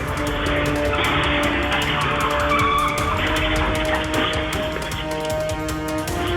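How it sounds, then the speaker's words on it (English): A BMW M4 accelerates hard in reverse, its tires squealing and skidding loudly under a strained engine roar for several seconds. No impact stands out, and no one speaks. "The BMW M4 driver hit the gas in reverse, hard, sending the car flying backward and slamming straight into a streetlight"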